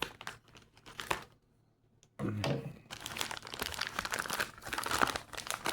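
A beef taco MRE pouch is torn and crinkled open, with loud, close plastic rustling and crackling that briefly pauses and then continues steadily.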